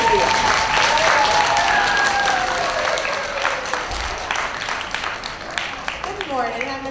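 School assembly audience cheering and applauding for a student of the month, a dense wash of clapping and voices filling the room throughout, with some tonal whoops rising above it and tapering slightly toward the end.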